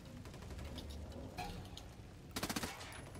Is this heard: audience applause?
no